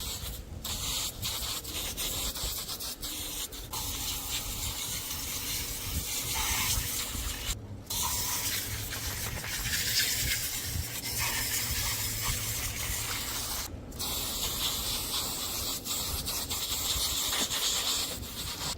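Water sprays and rushes over pool filter cartridges, washing debris out in a steady hiss and rubbing wash, with a few brief gaps where the flow stops, heard without any talk.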